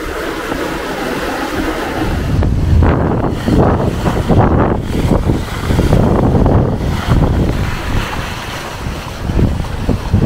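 Strong wind of about 11 knots buffets the microphone in gusty bursts on a sailboat moving at 6 knots near the Strait of Gibraltar, with waves rushing and sloshing beneath, loud and continuous.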